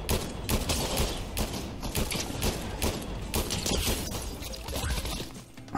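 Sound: pistol gunfire in a video game (Fortnite)

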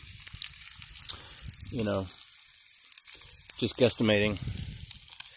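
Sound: food frying in a pan over an open fire

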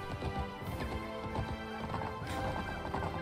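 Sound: horse neighing and hooves in a video game

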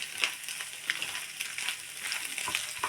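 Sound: chopped okra stirred and frying in a pan

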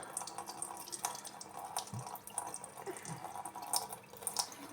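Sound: water running from tap

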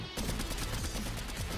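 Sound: sniper gunshot in a video game

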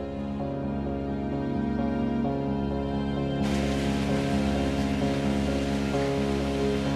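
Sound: shallow trickle of stream water in a cave

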